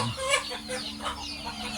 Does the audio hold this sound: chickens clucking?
yes